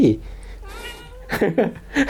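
A cat meows close to the microphone, a wavering cry in the middle of the clip, while someone talks around it.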